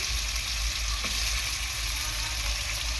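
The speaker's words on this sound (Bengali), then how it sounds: "সবার প্রথমে আলুগুলো আমি তেলে ভালো করে ভেজে নেব।" Potato pieces fry in hot oil in a wok, making a continuous, even sizzle and crackle at close range with no voices over it.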